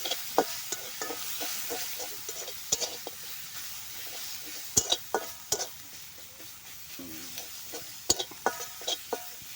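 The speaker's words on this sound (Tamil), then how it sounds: "எல்லா மசாலும் சேர்த்து வச்சு இப்போ நல்லா கிளறி விட்டுக்கலாம்" Spice masalas are stirred into a frying tomato mixture, a low sizzle punctuated by frequent sharp spatula scrapes and clinks against the pan, with no one talking.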